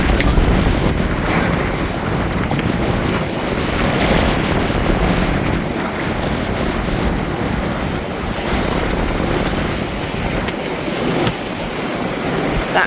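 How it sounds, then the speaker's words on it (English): Sailboat under way on open sea off the Ayrshire coast near Troon, with steady broadband rush of waves and water against the hull plus continuous wind buffeting the microphone, fairly loud and unbroken throughout. "We go, sailing without coats on."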